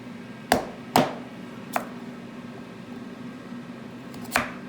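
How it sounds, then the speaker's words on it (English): A knife chops through hard sweet potatoes for vegetable soup, giving four or five sharp, close thuds on a board at uneven intervals over a quiet background. "Sweet potatoes are hard to cut."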